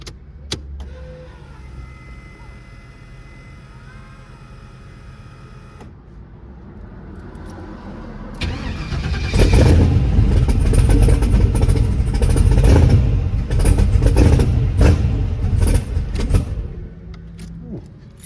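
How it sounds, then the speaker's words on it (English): Twin turbo LS engine in a G-body Cutlass cranks over with a whirring starter, then catches and runs roughly and loudly up close, the rumble building and staying rough after firing. "Turn the key one more time and I'm gonna go for a crank."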